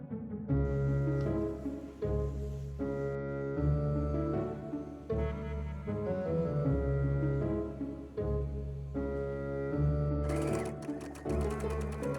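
A sewing machine runs in bursts while stitching the seams of a vintage-style Halloween apron and men's shirt. Steady mechanical whirring repeats in several runs with brief pauses between, close and fairly loud, with no talking.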